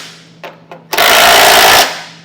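A power tool drives a 15mm socket to snug down trailer hitch bolts on a 2022 Cadillac XT6. Two short taps are followed by about one second of loud, continuous rattling impact whirring, close to the mic.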